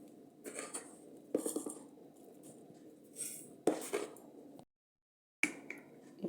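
Knife chopping red chillies and garlic for a spicy kara chutney: irregular close-up taps and clatter on a board in short bursts, with one brief silent pause and no voices.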